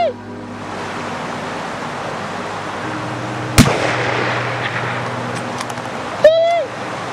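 A single sharp rifle report cracks out at a Kodiak brown bear during an Alaska spring hunt, set against constant outdoor wind rush. A second, fainter thump follows a few seconds later.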